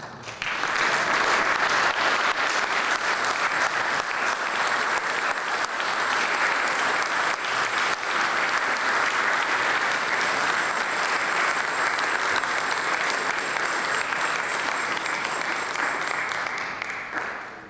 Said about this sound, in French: J'aimerais quand même qu'on puisse les applaudir